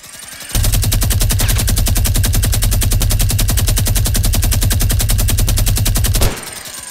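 A video-game minigun fires one loud, unbroken rattling burst that lasts about six seconds, starting and stopping abruptly, with no talking.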